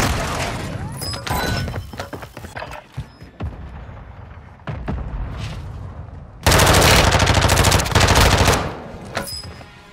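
Gunfire in Call of Duty Modern Warfare 3 multiplayer, loud rapid automatic bursts and single shots that end in a long sustained burst near the end, with a game announcer voice briefly heard.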